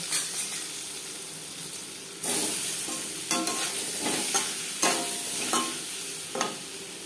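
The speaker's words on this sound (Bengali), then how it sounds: "সবার প্রথমে ডিম ভেজে নেব।" Duck eggs frying in oil in a pan, a constant soft sizzle broken by several sharp bursts of stirring and spattering, close up with no voices.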